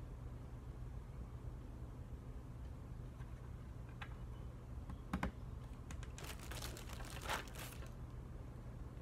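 Typing on a GK64 custom mechanical keyboard, faint scattered key clicks at first, then a quicker, denser run of keystrokes near the end, close and quiet with no talk.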